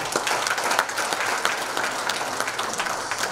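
Audience applause at a Rotary training session, a dense steady patter of many hands clapping close and loud throughout, with no talk over it.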